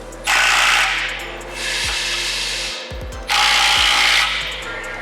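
A power tool tightens the ball socket clamps on the X pipe of an AWE exhaust fitted to a BMW G8X M3/M4, running in two long loud bursts with a shorter pulse between, the whirring and ratcheting close by.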